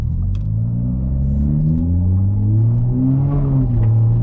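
Valveless exhaust on a Toyota Supra idling near 3,000 RPM in drive, a loud, close, deep rumbling burble whose pitch rises and sways slightly, steady throughout with no talk.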